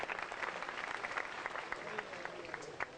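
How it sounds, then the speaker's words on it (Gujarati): An audience claps at a spoken gathering, giving a continuous patter of many hands for about three seconds, fairly faint and distant, with some voices mixed in. "તાળી પાડો."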